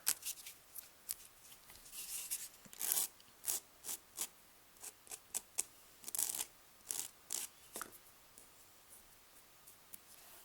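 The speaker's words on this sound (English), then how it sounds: "We're going to take my big file here and just file the excess off." A large nail file rasping excess nail wrap material from a fingernail edge, quiet close strokes in irregular short bursts with brief pauses between them.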